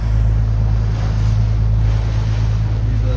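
Loud ocean waves wash and roll around a boat near Nassau in the Bahamas, with heavy wind buffeting the microphone and a steady low engine rumble underneath, continuous throughout.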